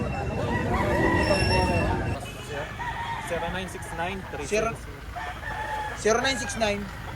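Roosters crowing at a busy poultry auction market in Lipa City, several crows in succession near and far over crowd noise, with voices talking close by.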